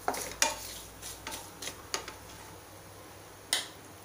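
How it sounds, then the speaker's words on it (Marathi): Fennel seeds sautéing in hot oil in a pan while making a mango relish, with a faint steady sizzle broken by several sharp taps and clicks of a spoon against the pan. "बडीशेप घालूया, ही पण 30 सेकंद परतून घ्यायची आहे"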